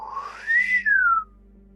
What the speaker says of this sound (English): Excuse my breathing or my whistling.